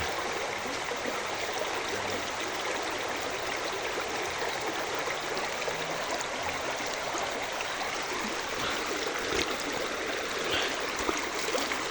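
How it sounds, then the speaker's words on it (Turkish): A large stream in a village setting rushes steadily with dense, broadband water noise, close and continuous throughout with no voices. "Bunun bir tane dere daha var. E, çok büyük bir dere."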